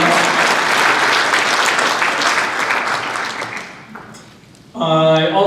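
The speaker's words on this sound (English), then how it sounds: "Let's give them applause." Audience applause at a 50th anniversary Vietnam War commemoration program, a steady, loud wash of clapping that fades out toward the end before a speaking voice comes in.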